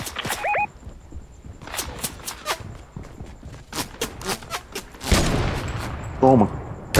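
Gunfire in Fortnite, a run of sharp, loud shots in an irregular burst spread across the scene, mixed with footsteps and a heavier blast near the end, while players talk over it.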